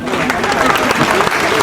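An audience at a Christmas celebration claps together in dense, continuous applause, close and fairly loud, with speech mixed in.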